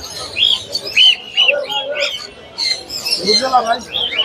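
Caged lovebirds and other birds at Mirpur bird market chirp and tweet in quick, bright bursts, mixed with a voice talking over them.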